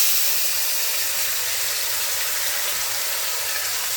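Onion paste sizzles in hot oil in a home kitchen, giving a steady, loud, even hiss that runs without a break and with no talking over it.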